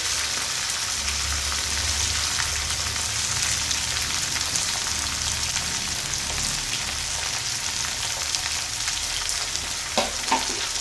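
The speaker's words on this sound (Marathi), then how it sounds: "आता हे छान परतून घ्यायचं आहे. इथे गॅस मोठाच ठेवायचा आहे" Peanuts, garlic and ginger fry in a pan over high heat, a loud, dense, continuous crackling sizzle close by, with a few soft stirring knocks near the end.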